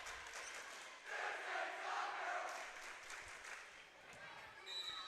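A high school volleyball crowd in a Minnesota gym cheers and shouts in a swelling roar that fades back to a murmur, with an announcer talking over it.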